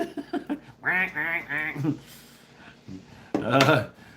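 Geese call while flying at night, giving a burst of several nasal honks followed by a second shorter honk, fairly near, with low background hiss between the calls.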